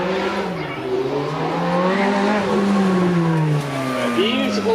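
Ferrari F430 V8 at a supercar weekend run revs hard and rises in pitch, its tonal engine note climbing and dipping as it accelerates, loud and fairly close, with crowd ambience behind.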